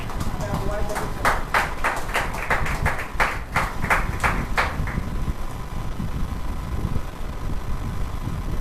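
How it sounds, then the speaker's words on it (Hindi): A congregation at a church healing service claps together in a quick, steady rhythm for about four seconds, then the beat fades under ongoing talk and room noise. "आइए जोरदार ताली परमेश्वर के दास के लिए"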